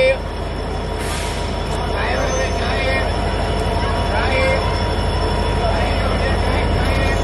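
Train at Faridabad railway station, with a steady roar of rail noise and squealing wheels throughout and voices talking over the busy platform din.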